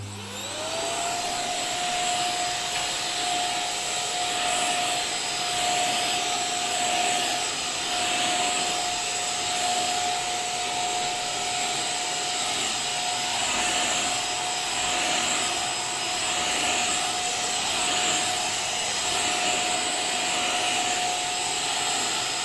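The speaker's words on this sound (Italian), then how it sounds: "devo passare l'aspirapolvere" A vacuum cleaner runs steadily throughout, a loud continuous motor whine with a constant pitch and airy roar, no voices.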